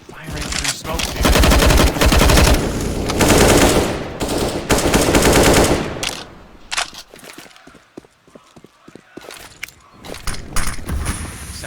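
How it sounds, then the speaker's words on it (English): Rapid automatic gunfire in Counter-Strike, shooting through smoke during a professional match, with loud sustained bursts that break into sharper scattered shots, while a commentator speaks over it. "Forward coming now. Firing through smoke, dude."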